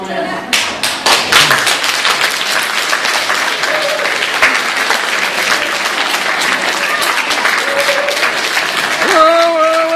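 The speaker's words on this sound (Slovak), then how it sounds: "Teraz, decka, tleskajte." A young audience of children claps at a theatre show, with dense, sustained applause and crisp individual hand claps at close range, and voices and a few tonal cries rising through it.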